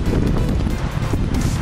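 Strong outdoor wind buffets the microphone in a continuous low rumble during an airgun review outdoors, with no voices.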